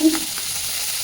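Tangra fish fry in a little oil with a steady close sizzle and soft spluttering, brief and even in loudness, opening with a short low knock.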